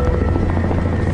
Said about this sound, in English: It's just a helicopter, son.